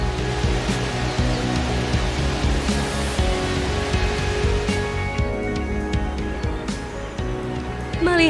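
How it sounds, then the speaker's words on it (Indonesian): Cerace Embon waterfall in Indonesia, a steady broadband rush of falling water that fills the whole stretch, close and fairly loud, with no talk over it. "inilah dia keindahan dari air terjun Cerace Embon ini"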